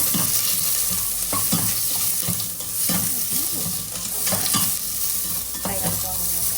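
Onion frying in a pan for oxtail curry, a loud constant sizzle with regular scraping stirs repeating close up.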